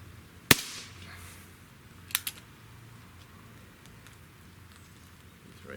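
A Smith & Wesson 79G .177 CO2 pistol fires one sharp, loud crack up close, followed a moment later by a couple of softer clicks, set against a quiet indoor background.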